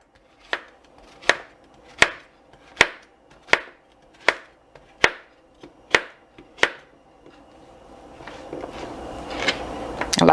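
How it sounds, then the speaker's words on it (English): A knife chops zucchini and squash on a board in nine or ten crisp, evenly spaced strikes, followed by rising kitchen clatter and handling noise toward the end. "I like to chop up all my zucchini and squash first."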